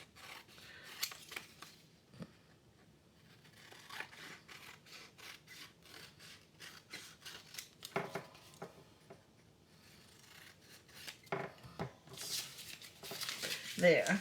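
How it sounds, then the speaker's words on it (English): Scissors snip and rub along the fabric edge of a doll's dress as it is trimmed, a run of short crisp cuts close up, with quieter rustling between them. "we're going to trim up the edge"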